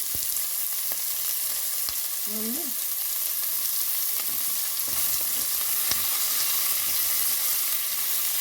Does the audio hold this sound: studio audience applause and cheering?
no